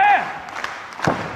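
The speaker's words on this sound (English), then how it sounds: "Oh, the crowd loving this, Sonny, and I am too." Wrestling crowd at a Stardom women's pro wrestling event in Tokyo, a short burst of cheering and shouts followed by a sharp thud, with voices mixed in.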